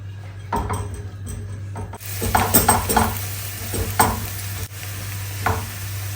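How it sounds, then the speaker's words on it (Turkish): Two medium onions and six cloves of garlic frying in a pan, with a steady sizzle under a low hum and repeated scrapes and clinks of a utensil stirring against the pan, no voices. "İki orta boy soğanımızı kavuruyoruz. Soğanla beraber 6 diş sarımsağımızı da kavuruyoruz."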